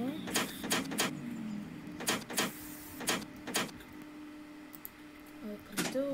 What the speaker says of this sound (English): Open the doors.